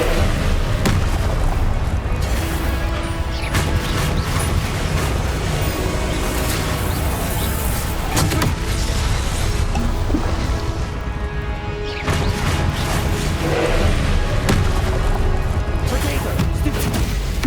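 Confringo blasting-spell explosions in Hogwarts Legacy go off again and again through dense, loud combat noise, with heavy booms and crashes layered over continuous battle effects and occasional speech.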